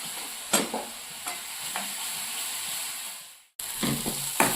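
Chopped tomatoes and onions fry in oil for a Maharashtrian fish curry, giving a continuous close hiss and sizzle with occasional stirring scrapes, and a brief dip in the sound before the frying resumes.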